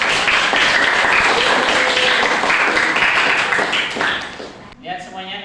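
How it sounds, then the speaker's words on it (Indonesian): Schoolchildren in a classroom clap together for several seconds, a loud dense patter of small hands that breaks off near the end as a voice speaks. "tepuk tangan untuk semuanya."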